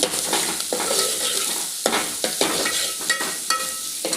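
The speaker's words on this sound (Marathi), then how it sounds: "ती डाळ घालून थोडस असं परतून घ्यायचं" Washed lentils sautéed in a pan for chakolya, a spatula scraping and stirring in quick strokes over a bright sizzle, close and fairly loud.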